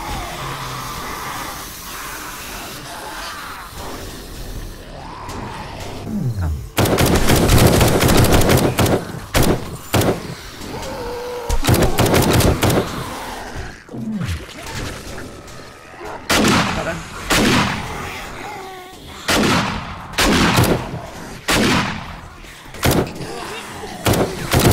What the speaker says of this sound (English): We can just shoot.